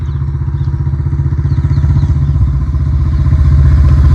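A motorcycle engine runs close and loud with a fast, even putter, steady throughout, building slightly toward the end.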